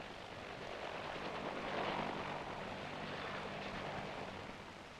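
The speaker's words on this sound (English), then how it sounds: "Troop carrier is the big twin-rotor H-21." A big twin-rotor Piasecki H-21 troop carrier helicopter drones in a steady, faint, washy roar that swells slightly and then fades, with no one talking.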